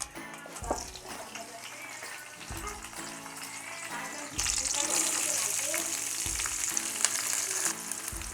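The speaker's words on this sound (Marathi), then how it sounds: "थोडंसं ना हे कांदा लसूण वगैरे ते सगळं परतून घेऊया" Onion and garlic sauté in a pan while pomfret marinates nearby, a close crackling sizzle with occasional stirring scrapes that grows louder and brighter midway, with a voice speaking faintly underneath.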